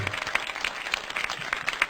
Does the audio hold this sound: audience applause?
yes